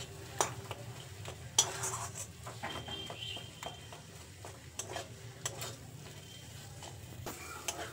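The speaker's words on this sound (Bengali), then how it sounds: "এবার মশলাটা খুব ভালো করে ভেজে নেব" Ground spice masala frying in a pot with a splash of water for khichuri, giving a steady low sizzle with scattered clinks of a spoon or ladle against the pot, close and continuous without any talk.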